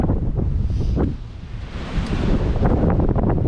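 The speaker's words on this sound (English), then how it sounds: "The wind is no joke." Strong gusting wind buffets the microphone at the edge of a mountain range overlooking the Catskill foothills, a loud steady roar that dips briefly and surges again, with no one talking.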